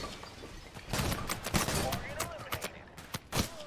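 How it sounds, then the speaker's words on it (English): Gunfire in the video game Total Conflict: Resistance: repeated sharp shots and bursts, some close and loud, others more distant, scattered irregularly over a noisy battle backdrop with faint voices under the shooting. "And someone is still shooting at me."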